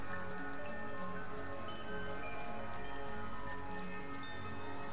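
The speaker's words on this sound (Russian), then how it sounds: "Сейчас идет дождь" Rain falling in the game DayZ, a steady dense patter of drops on surfaces with faint periodic ticks layered over a constant low hum, with no voices throughout.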